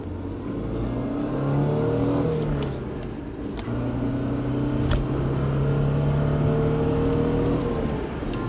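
Porsche 944 engine, a 37-year-old car, droning steadily while driving, with tonal engine hum shifting in pitch as it pulls through gears, continuous and fairly close, no talking.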